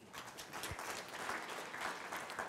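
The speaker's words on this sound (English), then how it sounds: "A round of applause, please." A crowd claps steadily, a continuous patter of applause filling the room.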